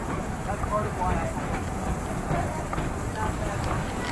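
Georgetown Loop Railroad train rolling along its rails past a mining camp, a steady low rumble and rattle of wheels with faint clicks, continuous and close throughout.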